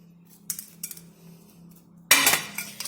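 A knife chops red chillies into small pieces on a board, a few sharp close taps, then a louder burst of clinking and scraping near the end over a faint steady hum.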